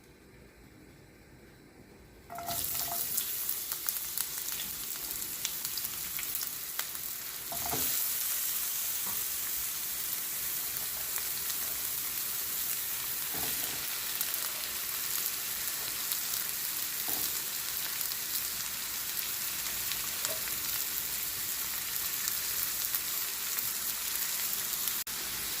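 Onion sautéing in a hot pan, starting quiet, then bursting into a loud, continuous hiss and crackle after a couple of seconds that holds steady throughout, with occasional stirring knocks.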